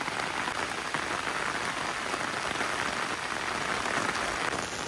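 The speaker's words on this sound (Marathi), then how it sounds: "खूप जोराचा पाऊस आलाय" Heavy May rain in a village pours down as a dense, steady hiss of drops, loud and unbroken throughout, with no voices.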